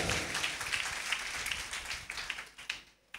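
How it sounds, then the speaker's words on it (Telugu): A church congregation at an Easter service clapping together, a steady dense wash of applause heard from a distance that thins out into scattered individual claps near the end. "కొట్టండి చప్పట్లు ఇప్పుడు ఒకసారి."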